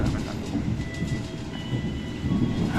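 The KA Argo Bromo Anggrek executive train rolls along the rails in a steady, loud rumble with faint clatter, heard from on board without pause.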